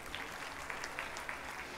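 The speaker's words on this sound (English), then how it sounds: "A round of applause for this." Audience applause in a school auditorium at an annual day event, a steady, fairly faint wash of clapping sustained throughout with no talk over it.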